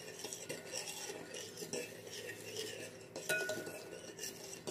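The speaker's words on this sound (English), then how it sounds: "stirring that back up." Candy apple coating stirred in a pot at home, a utensil scraping and clinking steadily against the metal for several seconds, close and fairly quiet with no talk.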